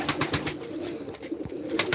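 Pigeons at a Turkish fancier's loft of flying play birds coo repeatedly in a soft, rhythmic series, close by, with faint rustling between calls and no talk.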